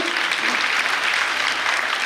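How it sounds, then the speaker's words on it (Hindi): Continuous hall applause from an audience at a 2023 KPMAS community event, an even, dense patter of many hands that holds steady throughout without pause. "थोड़ी कमी तालियां बज रही है।"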